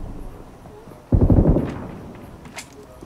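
A grenade blast and gunfire in BGMI, heard as one loud, close burst of explosion that fades over about half a second, with faint shots afterward and voices talking in the background.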